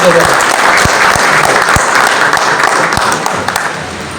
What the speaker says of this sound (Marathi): आपण सगळेजण एकदा टाळ्या वाजवून